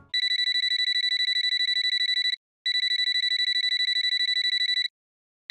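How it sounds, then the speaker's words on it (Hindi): An electronic phone rings in two long trilling bursts separated by a short gap, bright and steady, with a third ring just starting at the end; no talk over it. "प्रिंसिपल मैडम का फोन"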